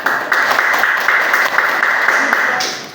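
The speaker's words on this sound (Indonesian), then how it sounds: "Silakan berikan tepuk tangan." Elementary school class applauding a student group after its presentation in a social studies lesson, a brief, steady round of clapping from a modest group in a room.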